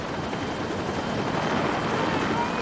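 A search and rescue helicopter in rough backcountry gives a steady, loud rotor roar and broad whooshing drone, unbroken and close throughout.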